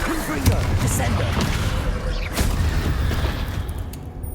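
Confringo fire spells go off in Hogwarts Legacy combat as a string of booming blasts and bursts, continuous and loud, mixed with other spell effects and game noise, with voices speaking over parts of it.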